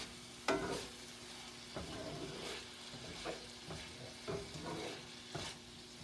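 Pork and leftover vegetables stir-fried in a pan with a sugary sauce, a steady sizzle with several scraping stirs and tosses at irregular intervals, close and moderately loud with no talking.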